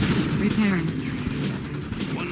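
Red Alert 2 gunfire, a steady stream of rapid battle shots and booms under game sound effects, with people talking over the action.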